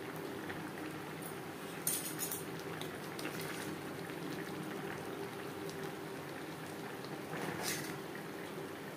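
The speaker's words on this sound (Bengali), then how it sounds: "সবজির সাথে মাছ আরও 4-5 মিনিট রান্না করে নেব।" Fish curry with vegetables simmers in a pot, giving a faint, steady bubbling and gentle liquid burble with no voices.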